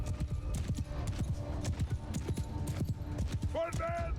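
Horse archers' mounts gallop in Mount & Blade II: Bannerlord battle, a steady run of rapid hoof clip-clops under busy battle noise, with a brief whinny-like call near the end.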